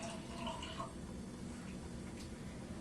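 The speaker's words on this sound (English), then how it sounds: "We're going to take the blue water from this glass, and we're going to pour it into this glass." Blue-tinted water poured from one glass into another, a soft, steady trickle of liquid running quietly for a few seconds, fairly faint with room noise behind it.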